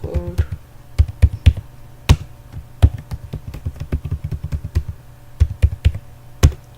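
Computer keyboard keys tapped out in short bursts of close, crisp clicks with irregular pauses, as a password is entered during an Ubuntu 16.04 setup; no voices.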